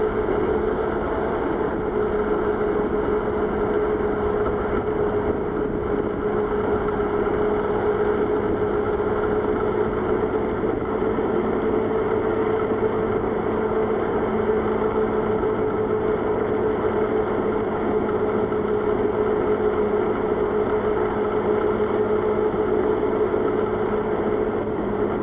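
A NAVEE N65 electric scooter climbs a steadily steepening hill at full throttle in third speed at about 25 km/h. Its motor holds a steady, even hum under constant wind rush for the whole stretch, with no voices.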